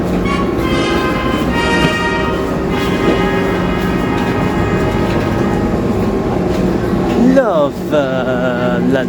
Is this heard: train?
yes